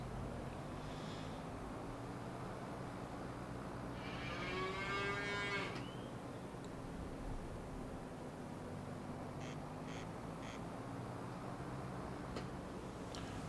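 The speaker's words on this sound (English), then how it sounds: "Oh, there's some cows in that field." A single cow in a farm field moos once, long and drawn out, somewhat distant, over a steady background hum with faint ticking sounds later.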